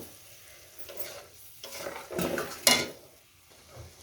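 Spice paste with tomato sautéing in a pan for chicken curry, with intermittent scraping stirs and a soft sizzle, plus a sharp utensil knock against the pan near the end.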